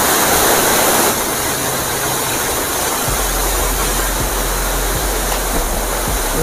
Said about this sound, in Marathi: बहुतेक आपण परत त्या धबधब्याजवळ आलेलो आहेत